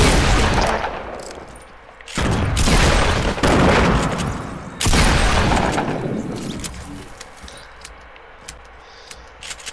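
Gunfire rings out in a Fortnite battle, with loud close bursts of rapid shots in several long volleys and brief gaps between them, no talk over it.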